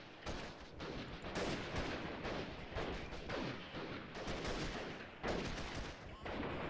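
Rapid gunfire bursts and single shots from the shooter game Freeman Guerrilla Warfare, sustained and loud throughout with repeated sharp cracks layered over a busy battle din.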